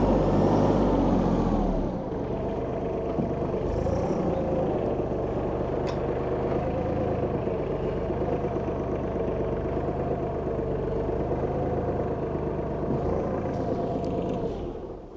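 A manual tractor engine idles steadily and close by while a trailer is hitched, a loud low rumble that drops slightly after the first two seconds and then holds an even drone.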